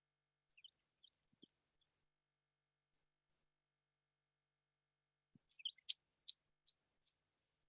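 Faint, sparse bird chirps early on from a played recording, then a short burst of brighter, louder song notes in quick succession, otherwise near silence.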